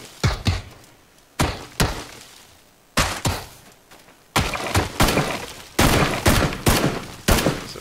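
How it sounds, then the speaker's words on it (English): Gunfire in the battle royale game PUBG comes as a string of sharp, loud shots, singly and in quick clusters, spread irregularly across the span with short gaps between them. "For some reason, I'm shooting the edge of the tree."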